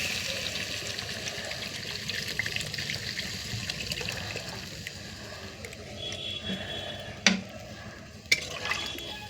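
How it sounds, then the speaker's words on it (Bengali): Water poured from a small bottle into a pot of fried, spiced potatoes makes a steady splashing, bubbling wash at moderate volume, with a couple of sharp clinks near the end. "এবার জল দিয়ে দিলাম।"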